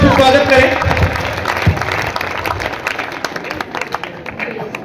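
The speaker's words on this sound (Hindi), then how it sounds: "उनका जोरदार तालियों से स्वागत करें।" Applause from an audience welcoming guests at a college program in India, a burst of clapping that starts strong and gradually thins out, with someone speaking over it.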